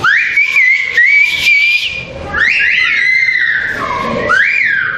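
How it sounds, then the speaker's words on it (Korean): Turkish whistled 'bird language' used to communicate: loud, piercing whistled phrases with rising and falling glides, several bursts in quick succession, performed alone without talk. "놀랍게도 새의 언어는 휘파람이었습니다."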